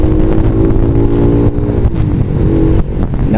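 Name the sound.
motorcycle being ridden on the road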